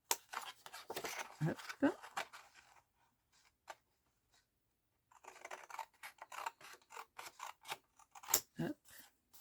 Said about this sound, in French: Quand j'ai fait tous mes tableaux, je les découpe.